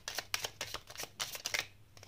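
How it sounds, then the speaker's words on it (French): Tarot cards slid and pulled from a deck, a quick close sequence of dry papery swishes and flicks in a tight rhythm, fairly quiet, with a brief pause before one last rustle. "Je vais sortir d'autres cartes comme ça."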